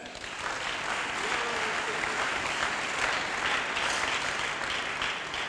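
Sustained applause from a church congregation acclaiming the Lord, a dense, steady wash of clapping that holds loud and even throughout with no speech.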